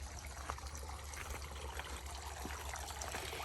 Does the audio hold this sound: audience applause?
no